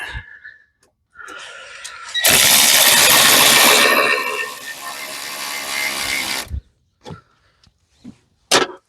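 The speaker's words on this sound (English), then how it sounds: "I've got to get the smaller ratchet to get fit in here because that one ain't working out" A hand ratchet works on the water pump bolts of a 1992 Geo Metro G10 three-cylinder engine, giving a loud, close burst of fast clicking that lasts a few seconds, with brief knocks before and after.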